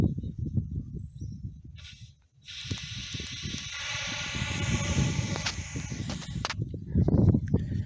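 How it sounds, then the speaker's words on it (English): Drill powder being blown out of a freshly drilled hole during a farmhouse porch post replacement, a breathy hissing blow mixed with handling noise and scraping, close to the microphone, with a short quiet gap midway. "So about every third, I will blow the hole out."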